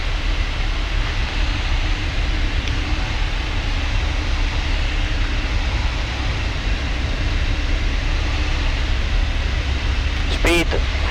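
A motorglider's engine drones steadily and loudly from inside the cockpit in flight as the throttle is closed, a constant rough hum with no clear change in level, and a voice speaks over it.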